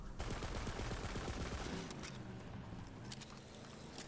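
Gunfire from the Borderlands 3 video game, a rapid run of shots fired in a sustained burst, loud and close, continuing through the whole stretch with no voices.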